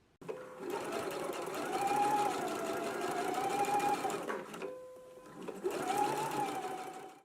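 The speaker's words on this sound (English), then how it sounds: "So let's go ahead and do our permanent stitch now." A sewing machine runs a permanent stitch on a garment seam, a steady close whirring hum in two long bursts separated by a short pause, with no talking.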